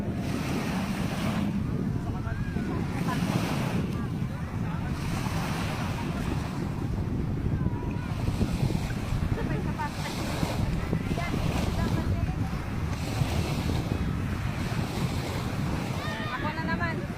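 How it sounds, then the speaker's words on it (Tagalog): High sea waves crashing and washing along a seashore, a continuous loud surf roar mixed with wind buffeting the microphone, with faint voices in the background. "Mataas na yung dagat."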